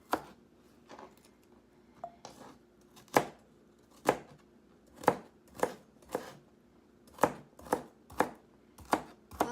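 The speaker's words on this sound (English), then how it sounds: "I like to cut it into smaller pieces as possible" A knife chops celery on a cutting board in irregular sharp knocks, a dozen or so close taps spaced unevenly, with no talking.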